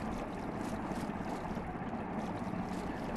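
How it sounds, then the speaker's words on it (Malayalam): A boat glides across water in Minecraft, giving a steady, soft rushing wash with no break and no voices. "നല്ല രസം ബോട്ട് ഓടിക്കാൻ."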